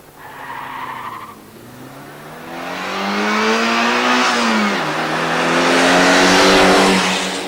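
A Saab Turbo and a BMW 528 accelerating from a standing start over a quarter mile, with engines revving up through rising gear pulls, a shift dip midway and tire noise, growing louder and close.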